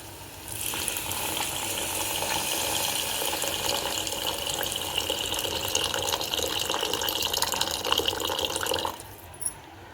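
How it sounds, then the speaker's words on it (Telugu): Steady rushing and splashing of water poured into a pot of prawn and tomato curry for about eight seconds, continuous and fairly close, then stopping with a brief clink. "ఇప్పుడైతే వాటర్ వేసేస్తున్నానండి"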